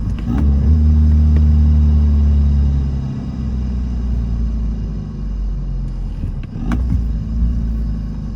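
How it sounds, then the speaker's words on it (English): A 2013 VW Jetta TDI diesel with a six-speed manual revs on downshifts, with a loud, deep engine rumble that swells and then settles, rising again briefly near the end with no talk. "So let's hit these downshifts."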